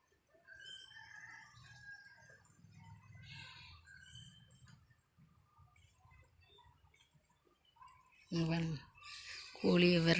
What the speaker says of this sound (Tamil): கோழியை விரட்டுறது பார்த்தீங்களா?